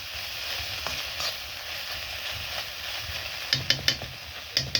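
Shrimp fry in a pan with salt and turmeric, a soft, even sizzle running throughout, joined near the end by several sharp metallic clinks of a spoon against the pan.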